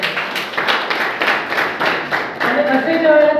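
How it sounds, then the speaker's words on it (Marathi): Audience clapping at a school leadership camp in Goa, a crowd applauding in a steady run of claps that swells slightly near the end, with a faint voice or tone emerging underneath. "तुमच्यासाठी एकदा जोरदार टाळ्या झाल्या पाहिजे"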